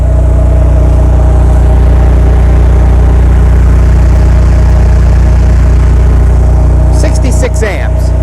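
A 2015 Cummins home standby generator runs under heavy load on natural gas, a loud, steady low engine drone with a constant hum, and a brief rustle or clatter near the end.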